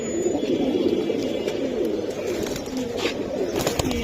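Giribaz pigeons cooing close by, a steady run of low throaty coos and soft bubbling calls repeating through the whole stretch, with faint background clatter.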